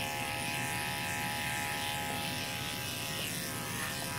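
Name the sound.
electric clipper trimming an Airedale's coat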